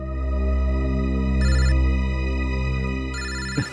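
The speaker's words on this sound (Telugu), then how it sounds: "ఎవరి గురించి మాట్లాడానో ఆయనే ఫోన్ చేశారు, సోలంగి సార్." A telephone ringtone chimes in repeated electronic bursts during a tense crime-drama scene, loud and close against a steady background hum, with no talking.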